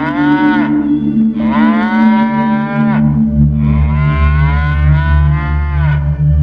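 Highland cattle lowing in three long, loud, drawn-out moos with brief pauses between them, close by and with no voices.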